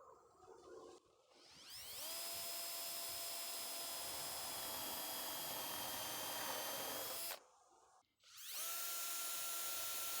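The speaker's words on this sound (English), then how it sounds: "Drill as straight as I can down." A power drill bores holes for a DIY ladder tool caddy, its motor whining steadily and loud for about five seconds, then stopping briefly before a second whirring run starts up.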